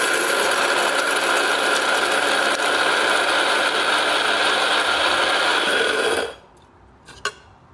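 A coffee grinder runs with a steady, gritty mechanical whir as it grinds beans finely for espresso, then cuts off abruptly, followed by a brief quiet and a single small knock.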